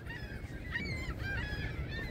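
Ducks and geese honking and calling in a Montreal park in spring, a steady chorus of overlapping nasal calls against a continuous low background rumble, with no talk.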